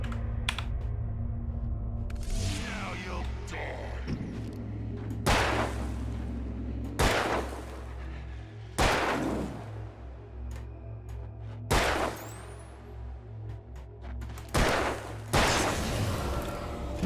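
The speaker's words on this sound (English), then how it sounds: "Okay, he takes a fair few shots." Gunfire in the video game Alan Wake: a series of loud, sharp shots spaced a second or two apart, ringing out one after another against a low ambient hum.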